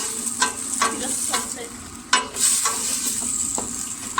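Vegetable soup with chopped celery being stirred in a pot, a spoon scraping and knocking against the sides in irregular strokes over a steady sizzling hiss, close and moderately loud.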